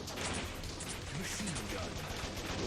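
Rapid machine gun fire blazes through a frantic shootout in the PC game Bot Vice, a dense, steady stream of shots filling the clip with a voice talking faintly underneath.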